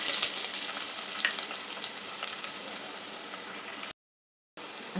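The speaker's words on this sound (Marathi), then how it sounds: "त्याला आपण फोडणी देऊया." Bay leaf, onion, black and green cardamom and a few cloves sizzling in hot oil as a tempering for mutton curry, a close, steady bright frying hiss that cuts out briefly before returning.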